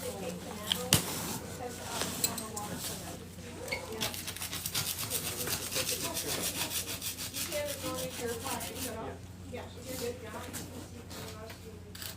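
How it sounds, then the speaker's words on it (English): A soft plastic spackling tool scrapes barnacles off a sea turtle's shell in steady, rhythmic rubbing strokes that continue close up for the whole stretch, with faint voices in the background. "As you can see, this is on the surface, and we are just scraping it"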